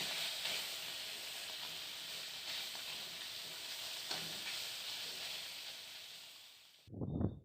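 Small chuno fish frying in oil, a faint steady hiss of sizzling that cuts off abruptly near the end, followed by a short clatter.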